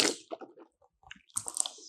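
Water swished and rinsed around the mouth during wudu ablution, with wet squishing and gurgling bursts in two close, moderately quiet spells separated by a brief pause.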